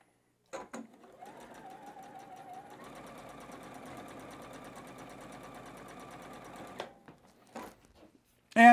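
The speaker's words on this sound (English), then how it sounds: "I'm going to make sure I get the correct seam going through the machine" A sewing machine runs in one steady stretch of about six seconds, stitching a seam through batik fabric patches held right sides together, with brief handling clicks before and after.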